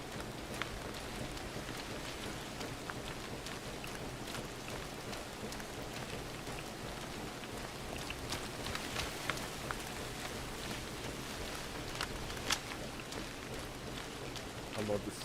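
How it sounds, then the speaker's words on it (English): Steady rain patters in the jungle of the Vietnam-era game ARMA 3 SOG Prairie Fire, a soft constant hiss with scattered drops, while players talk quietly over it. "I love the sound of the rain."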